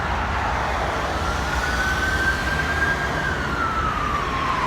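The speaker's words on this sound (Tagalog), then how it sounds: "may ambulansya, ambulance." An ambulance siren wails steadily in the distance, rising and falling slowly over a constant roar of traffic noise.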